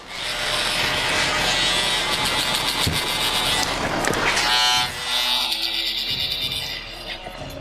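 Electric hair clippers skinning out the sides for a skin taper on a fauxhawk, a loud buzzing hum with shifting tone as the blades move over the head, cutting off briefly near the end.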